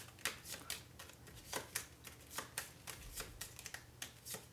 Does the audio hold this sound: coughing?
no